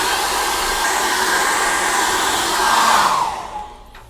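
A hair dryer blows steadily and loudly over acrylic paint on a canvas. The airflow holds a constant roar, swells slightly near the end, then cuts off and fades away.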